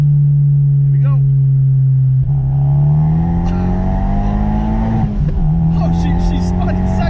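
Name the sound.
turbo Fiat Abarth 124 accelerating and spinning its rear tires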